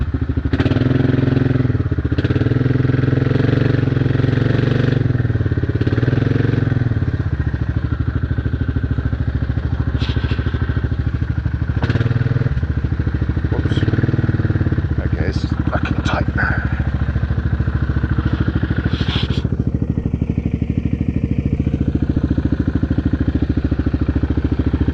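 Motorcycle engine labouring on a rough, muddy dirt road, a steady low rumble with clattering bumps throughout, close and loud, while people talk over it.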